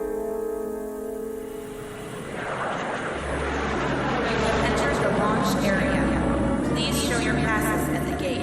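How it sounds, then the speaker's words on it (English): An airliner landing in a radio drama, its engine roar swelling from a low rumble into a loud sustained whoosh after a few seconds, with voices heard before the noise builds. "Ladies and gentlemen, in a few moments we shall be landing."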